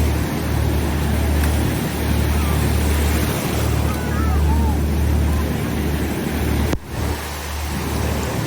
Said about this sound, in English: Oh, and some waves.